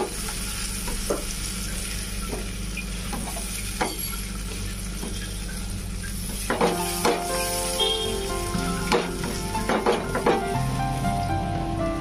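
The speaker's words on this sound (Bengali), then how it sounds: "টমেটো পেস্টটাকে আমি খুব ভালোভাবে কষিয়ে নেব, যেন টমেটোর কাঁচা গন্ধ না থাকে।" Tomato paste sautéing in oil for niramish veg paneer makes a steady, close sizzle, with a few spoon scrapes and clinks against the pan in the second half and no talk.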